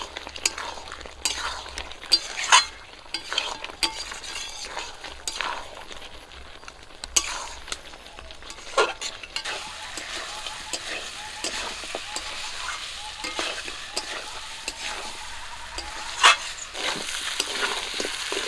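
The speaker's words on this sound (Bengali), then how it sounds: "মাংসটাকে ভালো করে কষিয়ে নেব কিছুক্ষণ।" Mutton kosha with fried potatoes is stirred and fried in a pan, making repeated scraping and clinking strokes over a steady sizzle across a long stretch, close by, with faint background sounds.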